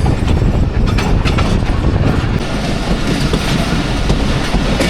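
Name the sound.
freight container train led by GU40 locomotive passing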